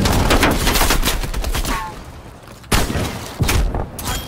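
Rapid bursts of gunfire and thudding artillery impacts from a Call of Duty Black Ops Cold War hardcore free-for-all match on the Raid map, dense and loud at first, easing, then two sharp heavy blasts.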